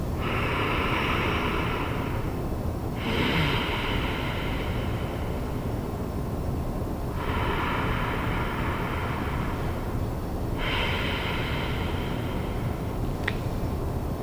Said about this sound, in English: Some people call it Darth Vader breathing, like this.